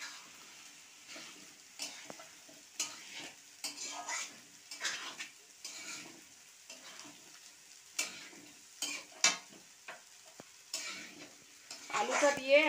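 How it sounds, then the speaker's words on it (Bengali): Potato pieces sizzle in spiced oil in a pan while a metal spoon stirs and scrapes against it, the frying crackle quiet and steady under repeated clinks. "আলুটা দিয়ে এখন আমি কিছুক্ষণ কষিয়ে নেব"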